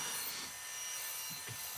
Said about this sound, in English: Now sawing two holes I drilled.